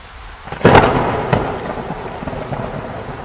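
A heavy downpour in a Hindi horror story, a sharp close thunderclap cracking into a long rolling rumble over steady dense rain, with a second fainter rumble following.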